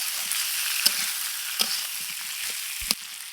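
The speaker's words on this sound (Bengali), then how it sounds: "কচুটা মশলার সাথে কষিয়ে নেব।" Boiled taro fries with spices in a pan, a steady close sizzle broken by a few sharp spatula taps and scrapes, with no speech.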